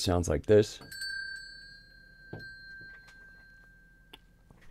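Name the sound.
small hand bell rung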